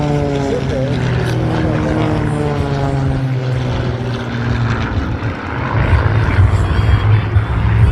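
Three propeller aircraft fly a triple hammerhead in formation at the Barrie air show, a loud steady engine drone with droning harmonics that shift in pitch as they climb, heard under a commentator's voice.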